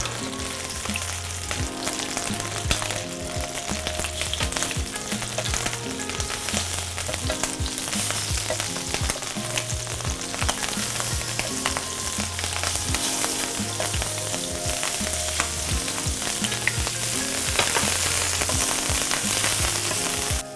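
Shrimp sizzle steadily in a hot pan, a loud, continuous crackling fry with a faint stirring texture running throughout, with no talking.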